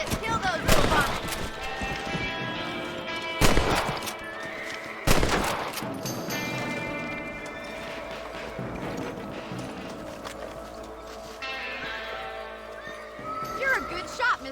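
Rabbits shot at from horseback in Red Dead Redemption: several sharp, loud gunshot bursts ring out over galloping hooves and horse whinnies, with scattered game effects in between.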